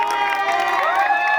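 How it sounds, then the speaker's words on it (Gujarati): A party crowd at a carnival-themed celebration cheers a winning team in a brief burst of excited shouting and high, ringing voices, with clapping mixed underneath. "વૃષભ એન્ડ ટીમ માટે જોરદાર તમારા માટે તાળીઓ"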